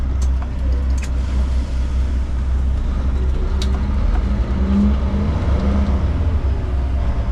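A truck pulling a trailer reverses and turns on a road between Brisbane and Sydney, its engine rumbling low and steady at close range throughout, with faint road noise and no voices.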